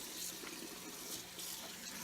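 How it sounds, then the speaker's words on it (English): Steady cold tap water running and splashing while rinsing a coffee-stained dress, a continuous faint hiss with no voices. "So you want to rinse as cold water as you can stand it."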